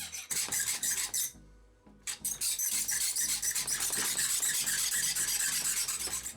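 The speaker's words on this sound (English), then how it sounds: "I won't show you that much of the sawing process because this sound" A harsh, rasping saw cuts back and forth through thin copper sheet in quick strokes. It pauses briefly once, then resumes its steady scraping.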